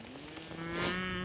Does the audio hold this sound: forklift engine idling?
no